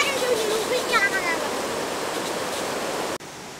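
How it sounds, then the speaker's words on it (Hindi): Jogini waterfall near Manali, a steady broadband rush of falling water heard from nearby along a trekking route, continuous and even until a brief cut near the end. "काफ़ी अच्छा वाटरफॉल है"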